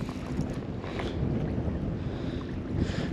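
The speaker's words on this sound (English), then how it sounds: "the wind's trying to push me up against the shore" Wind gusting over a pedal kayak on open water near shore, a steady roar of buffeting across the microphone with faint water movement beneath and no voices.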